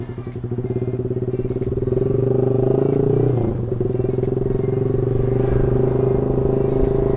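Yamaha R15 V3 motorcycle with an open looper installed, its engine idling and revving close by in a steady loud drone, with a rattling clatter mid-way and no popping.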